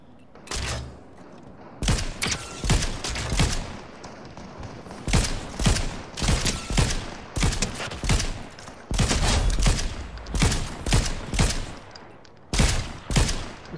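Rapid bursts of gunfire from a Fortnite duo match, loud and close, firing in repeated clusters with short gaps between volleys across the whole stretch, no talk over them.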